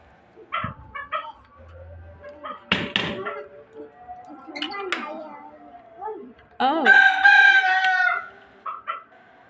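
A rooster crows among backyard chickens, with a dog barking and people talking in between; short calls and bursts come and go before a loud, sustained crow near the end.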